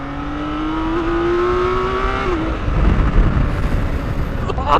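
A 2023 BMW K1600 Bagger motorcycle ridden hard, its engine droning loudly and climbing in pitch before dropping sharply at a gear change, then pulling again under heavy wind rumble.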